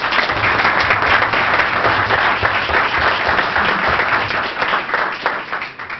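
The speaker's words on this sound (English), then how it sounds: "give him a round of applause" Steady, dense applause from the audience at a mayor and council reorganization meeting as the senator is welcomed, sustained and fairly loud throughout.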